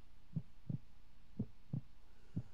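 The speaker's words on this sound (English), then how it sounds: "Alright, I still hear the heartbeat." Low, muffled heartbeat thumps in the horror game Creepypasta Museum 3D, beating in paired lub-dub pulses at an even pace over a quiet steady hum, alone without voices.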